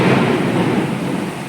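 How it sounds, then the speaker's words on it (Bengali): Thunder rolls in a deep, loud rumble during a night rain, fading slightly over its short length while rain hisses beneath it. "দেখেছো মেঘ ডাকছে কেমন হাওয়া"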